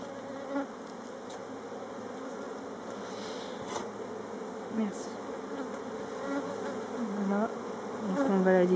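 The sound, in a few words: honeybee swarm buzzing during transfer into a hive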